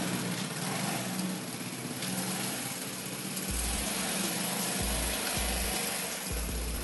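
A 2019 Vespa S125 scooter engine idling nearby, a steady, even mechanical drone that holds throughout with low rumbling pulses in the second half, no voices.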